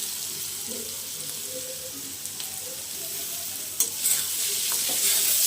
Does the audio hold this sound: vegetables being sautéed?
yes